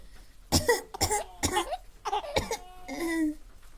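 Several harsh, hacking coughs come in quick bursts, close and loud, ending in a wheezy, strained throat sound.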